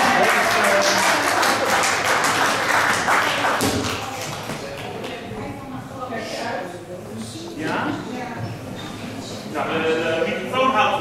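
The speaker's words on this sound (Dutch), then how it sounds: "ik wil een applaus voor" Applause at a Dutch stage show, with dense, rapid clapping from many hands for the first few seconds, then giving way to talking and scattered noise from the stage.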